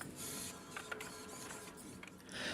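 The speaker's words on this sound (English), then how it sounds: "robot can pick up from the 3D printer and bring to the front stage for users" A 3D printer runs with a steady mechanical whir and small motor whines and clicks, faint but continuous, with no talking.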